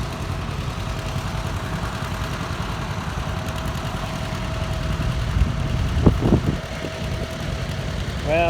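An old two-cylinder tractor engine runs with a steady, rough, knocking idle at a tractor show, with faint crowd noise around it and a few sharper bursts near the end.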